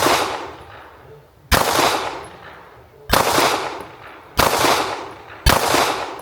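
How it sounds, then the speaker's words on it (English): A 2011 pistol fired on an outdoor range: five loud, sharp shots spaced roughly a second apart, each followed by a long echoing decay, with no talking. "Just gotta get used to the gun."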